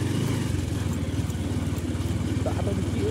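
A motorcycle rides over a rough road, its engine a steady, close, low throbbing rumble that runs throughout, with voices briefly heard over it.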